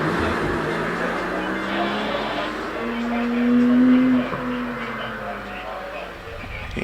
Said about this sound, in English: Richard York continues his way up the hill in the Porsche Cayman